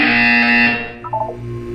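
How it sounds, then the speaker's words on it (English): A harsh, loud electronic buzzer from the video game Portal 2 blares for under a second and then cuts off, followed by a few faint electronic blips. "When you hear the buzzer, look up at the ceiling."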